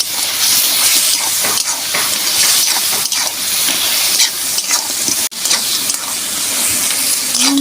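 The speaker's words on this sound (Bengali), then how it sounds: "ভালো করে আমি কষে নেব।" Turmeric and Kashmiri chilli powder sizzle and fry in a pan for a crab jhal curry, with a loud, continuous crackling hiss and steady stirring scrapes throughout.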